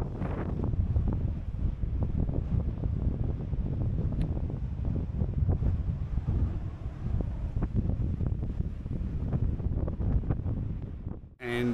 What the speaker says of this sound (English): if the wind was a little bit less blowy and the sun was out